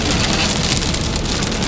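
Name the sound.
hail and rain hitting surfaces in a storm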